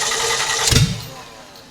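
A 1969 GMC truck engine, sitting unrun for 30 years, gives one short, loud cranking burst that fades quickly into a quiet hiss, with no steady running afterward.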